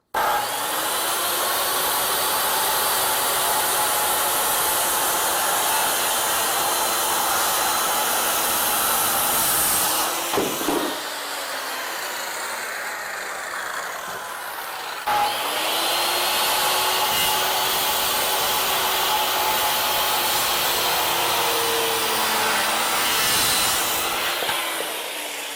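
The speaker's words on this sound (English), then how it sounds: "So I'm setting the saw at 45 degrees." A power saw set to a 45-degree bevel cuts a wooden roof rafter in two long, loud whining passes, with a brief pause and a thunk between them and another clunk near the end.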